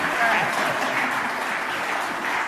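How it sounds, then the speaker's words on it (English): An audience at a book conversation event applauds steadily and evenly for the whole stretch, a dense wash of many hands clapping at once. "we'll take applause."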